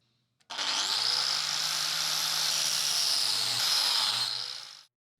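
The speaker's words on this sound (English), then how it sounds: "So I'll come in with a grinder and just take those corners off on both of them" An angle grinder takes the corners off steel fireside tongs, a loud steady high whine with gritty grinding that holds for about four seconds before cutting off cleanly.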